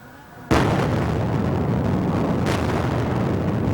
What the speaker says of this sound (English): Explosions throwing huge plumes of smoke and debris in the air.